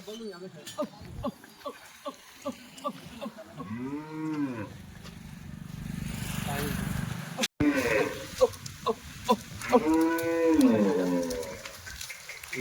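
A dairy cow lets out two long, deep moos close by, separated by several seconds, while people talk intermittently in the background.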